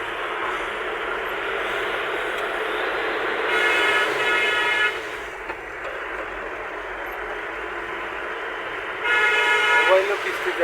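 A train passes near a route between Gazipur and Kaliakoir, rumbling steadily under a loud, continuous background, and two drawn-out horn blasts ring out, one in the middle and one near the end.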